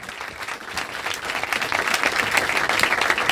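Applause and cheering rise from the audience of a live music-industry panel at Icon Collective, a dense crowd clapping that swells louder toward the end, with no speech over it.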